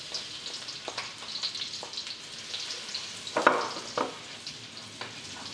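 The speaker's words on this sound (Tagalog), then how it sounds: "Simulan natin sa pagigisa ng bawang." Soft sizzling and crackling of garlic sautéing in oil in a wok, with a few louder pops and stirring scrapes, fairly quiet and without talk.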